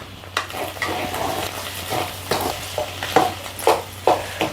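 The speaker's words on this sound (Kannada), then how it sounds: "ಇವಾಗ ಚೆನ್ನಾಗಿ ಮಿಕ್ಸ್ ಮಾಡ್ಕೊಳ್ಳೋಣ." Spoon stirring a spiced mixture with coriander, looking like egg bhurji, in a frying pan, giving repeated scraping strokes every half second or so over a soft continuous sizzle, close and moderately loud, no voices.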